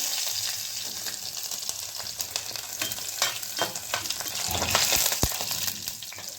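Garlic and green chillies sizzle in a pan in a home kitchen, a dense crackling hiss with scraping stirs and a few sharp clinks, close and alone.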